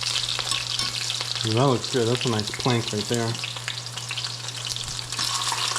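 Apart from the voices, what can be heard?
food searing in a pan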